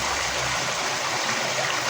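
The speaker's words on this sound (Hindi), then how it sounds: "बर्फ खुर रही है और पानी गिरा।" Cold meltwater pouring down from a melting snow tunnel on a mountain in Pakistan's Naran Kaghan area, a continuous rushing splash heard close and fairly loud without pause.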